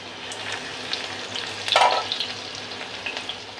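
Crushed garlic hits hot oil with cumin seeds for moong dal khichdi, making a steady sizzle that swells into a brief louder crackling burst midway, with no talking.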